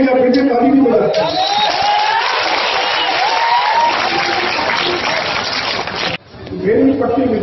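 Crowd at a political rally in Madhubani, Bihar claps in a broad, sustained wash of applause, with a loud amplified voice speaking over it much of the time.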